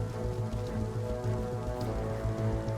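Steady rain falls in the DayZ video game, a dense continuous patter with a low rumble underneath, holding even and close throughout with no talk over it.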